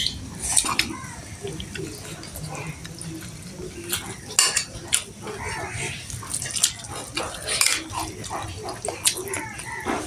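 Tomato, cucumber and carrot tossed together in a bowl, with soft irregular clinks and scrapes of utensils against the dish and wet stirring sounds, moderately close with no voices.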